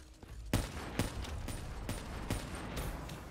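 Sniper rifle shots fired in the video game Black Ops 3, several sharp loud cracks at irregular intervals over steady game background noise, with no talking.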